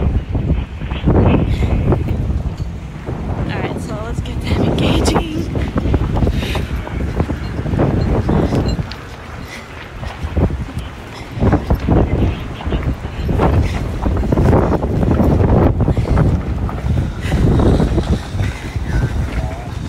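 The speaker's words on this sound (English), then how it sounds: "It is pretty windy out here, actually." Strong, gusty wind during a wildfire near Los Angeles buffets the microphone with loud, continuous roaring rumble and flapping surges, with a brief lull partway through.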